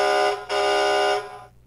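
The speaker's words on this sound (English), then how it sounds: "we get a truck horn." Two loud, brassy electronic horn blasts from a 2019 Hess toy tow truck, a short one followed by a longer one, with a slight fade after the second.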